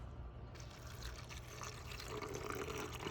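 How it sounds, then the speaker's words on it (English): About two cups of water pour into a blender holding torn paper pieces for recycling, a soft continuous splashing trickle that builds slightly toward the end, fairly quiet and close. "to our blender and to our paper, we need to add some water"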